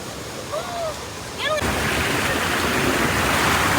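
Water rushing steadily through a filter channel at Maramec Spring park, a loud broadband wash that swells up partway through and continues alone without talk.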